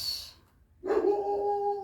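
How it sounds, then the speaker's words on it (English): A dog barks and whines just outside a closed door indoors, one high yip followed after a short pause by a sustained, tonal whimpering howl, fairly close and loud. "That would be my dog barking right outside the door"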